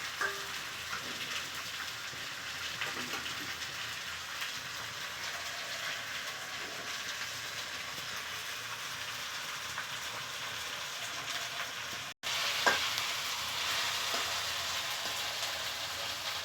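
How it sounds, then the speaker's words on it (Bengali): Spices stir-frying in a pan give a steady, close sizzle throughout, with a brief dropout near the end before the frying hiss resumes. "এবারে এটা ভালো করে কষিয়ে নিতে হবে।"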